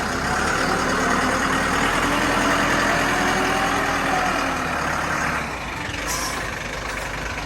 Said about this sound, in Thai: ฟังเสียงเครื่องนะครับ